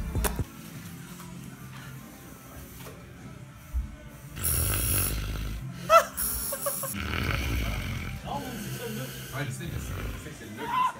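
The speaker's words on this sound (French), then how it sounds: "on l'entend ronfler" A person snores while sleeping after getting a tattoo, with a few rough, irregular snorts close by under ongoing talk and background noise.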